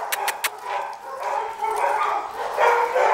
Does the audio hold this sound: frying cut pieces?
no